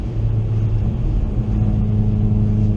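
A Hyundai i30N on the Phillip Island race track drones close up, its engine holding a steady low harmonic note with a slight rise, loud and unbroken, with no talk.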